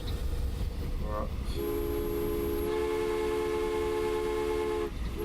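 A freight train in the Transport Fever video game sounds a sustained horn blast over steady rumbling rail noise, the tone holding for several seconds before cutting off.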